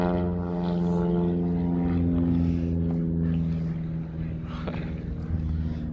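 Low, steady drone of an aircraft near an airport, holding a constant pitch and fairly loud throughout, with no talk over it.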